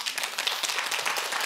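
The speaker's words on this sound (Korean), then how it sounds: "루터에게 박수 한번 칩시다." A church lecture audience applauds in dense, steady clapping for about a second and a half, close and loud with no talk over it.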